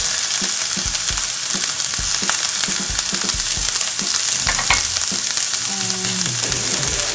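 Beans and dried mushrooms stir frying in a pan over medium heat for spring rolls, with a steady close sizzle broken by repeated scraping and clacking strokes of a utensil.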